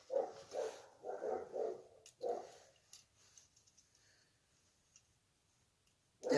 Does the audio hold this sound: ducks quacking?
no